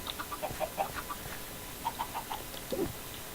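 Chickens in the Minecraft Stoneblock modpack, kept in an automated farm with babies, give short clucks and chirps in scattered bursts, a few soft calls then a louder squawk near the end, over steady background hiss.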